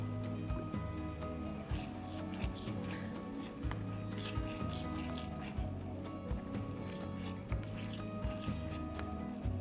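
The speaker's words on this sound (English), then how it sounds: "Simmer for a while." A pan of sauce made with water, salt, sugar, light soy sauce and oyster sauce simmering, a steady low bubbling hiss with soft intermittent pops.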